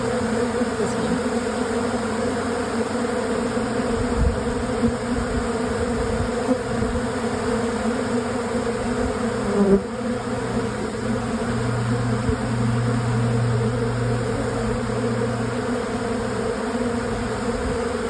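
A dense swarm of honey bees around a hive box closed off with another box, a constant loud buzzing drone with shifting pitches, close and unbroken throughout.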